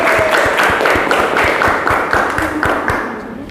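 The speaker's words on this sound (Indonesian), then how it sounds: "Tepuk tangan untuk kelompok 3." Classroom of students applauding a group after a physical-change experiment with an aromatherapy candle, steady close clapping that fades toward the end.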